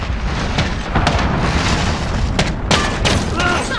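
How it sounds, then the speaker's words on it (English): Cruise missile explosion in Call of Duty Modern Warfare multiplayer: a dense, loud booming blast with rumbling bursts and scattered pops amid constant battle noise, with a voice faintly under the din. "Cruise missile away."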